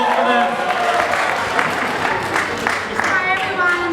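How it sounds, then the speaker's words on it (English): Audience applause after a youth performance at a community cultural event on the Sunshine Coast, a steady wash of clapping with crowd voices mixed in throughout. "Can we have another round of applause for them?"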